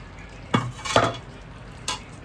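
A lid lifted off a pot of simmering chicken curry, a few sharp metallic clanks and scrapes close by, with a faint sizzle in the background.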